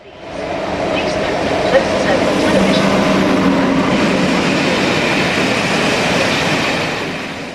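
A train runs on British Rail track, heard as a loud continuous rolling roar with a faint clatter of wheels and a brief squeal. A narrator talks over it throughout.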